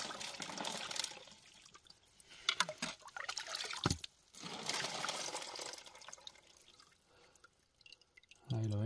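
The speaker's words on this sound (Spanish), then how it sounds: "Ahí veis cómo se va llenando de agua" Water trickling and dripping into a gold sluice cup while panning for gold nuggets in a Pyrenees stream, faint irregular splashes and pouring sounds close by, with some quiet handling noise.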